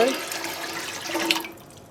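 Water pours into a dye pot of cochineal dye bath for wool yarn, a short splashing rush lasting under two seconds at close range, fading out abruptly.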